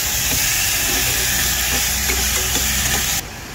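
Tomatoes sizzle in a hot pan while cooking for a sardines dish, a loud, steady frying hiss close up that drops slightly near the end.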